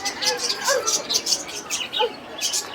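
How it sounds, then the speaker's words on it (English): Several birds in an aviary at the Shilparamam bird house chirp and tweet in busy overlapping calls at moderate distance over a steady background murmur. "These are all flying birds."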